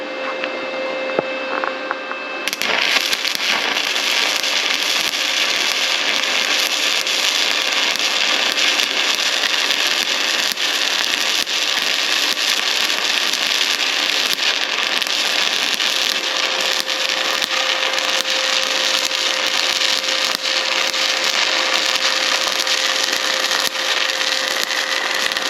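Sefaspe ARC 200 PRO arc welder running on 220 V, a loud, continuous crackling hiss of the welding arc that starts abruptly after a couple of seconds and holds steady to the end, no talking.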